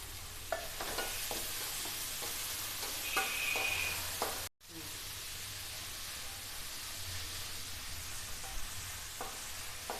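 Drumstick leaves are stirred and sautéed in a hot pan for a multigrain dosa, with a steady close sizzle and repeated scraping spoon strokes that continue throughout.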